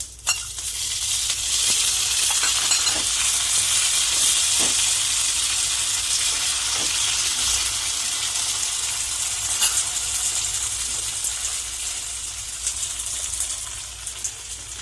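Hot oil sizzles and crackles steadily as cumin, mustard seeds, dried red chillies, coriander and curry leaves fry, a continuous hiss with small pops, loud at first and easing slightly toward the end.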